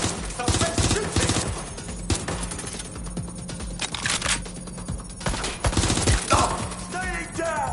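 Rapid bursts of gunfire crackle through a shootout in the video game Watch Dogs: Legion, loud and repeated in dense volleys, with shouted voices breaking in between.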